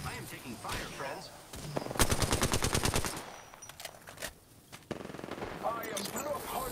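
Bursts of rapid automatic gunfire from a shooter video game chatter across the middle of the clip, mixed with other game effects and a voice talking.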